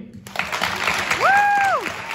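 Applause breaks out from an audience, a steady wash of clapping while a voice rises in a cheer or call above it.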